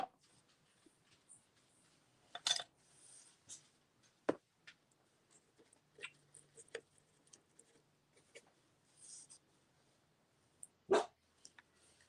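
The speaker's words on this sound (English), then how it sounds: "What are you barking at" A small dog gives a few sharp, scattered barks in a quiet room, separated by long pauses and faint ticking noises.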